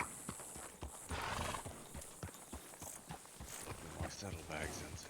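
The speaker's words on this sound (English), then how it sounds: "My horse is over here." In a video game, hooves clip-clop in a close, uneven rhythm as a horse snorts and whinnies, with a muffled voice talking underneath.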